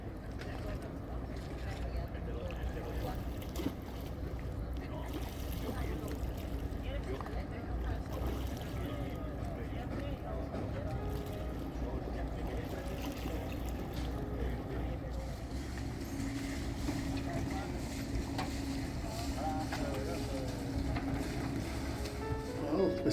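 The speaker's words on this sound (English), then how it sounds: "This is in the glass bottom boat." A glass-bottom boat cruises at sea off Puerto de Mogán, Gran Canaria, with a steady low engine and water rumble plus wind buffeting throughout, and faint voices beneath.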